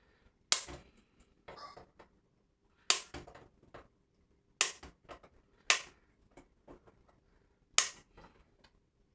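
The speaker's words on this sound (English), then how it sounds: "I'll clip those down" Flush cutters snip the leads of LED modules during assembly of an Alius 6502 kit, five crisp sharp clicks spaced a second or two apart, close and loud against near silence, with faint small ticks between.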